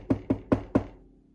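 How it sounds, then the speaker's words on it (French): Four evenly spaced hollow knocks, like knuckles rapping on a door, sound close and clear in a storytelling sound effect, then fade into quiet. "Est-ce qu'on cogne à la porte, vous pensez?"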